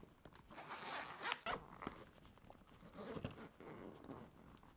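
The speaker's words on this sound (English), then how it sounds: "This pocket on the front here does unzip all the way around." Zipper on the front pocket of a Zuca miniSpinner bag being pulled open all the way around, a continuous scratchy rasp with brief pauses, close and fairly quiet.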